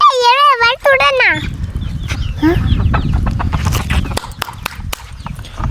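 Chickens cluck and a rooster crows at a poultry farm, loud and close, with steady fowl chatter and scuffling running throughout.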